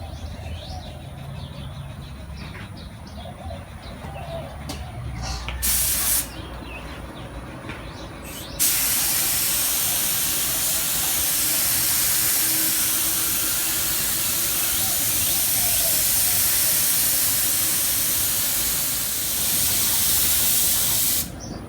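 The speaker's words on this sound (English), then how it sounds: "I'm gonna spray a really thin layer of Raptor" A soft hiss leads into a brief burst, then a loud continuous spray gun hiss applying Raptor bed liner coating runs nonstop for the remaining stretch, with faint bird chirps in the background.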